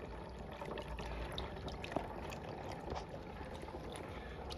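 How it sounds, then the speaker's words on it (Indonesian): A small water pump in a simple model hydroelectric setup keeps water circulating with a steady, continuous watery rush and trickle, with faint splashes and a small ticking click near the middle. "Pompa digunakan untuk mengalirkan air."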